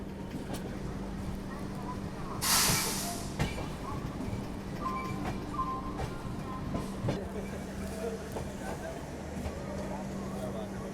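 Poorvottar Sampark Kranti Express running into Deen Dayal Upadhyay Junction gives a steady low rumble with faint track clatter and a brief hiss, while people talk nearby.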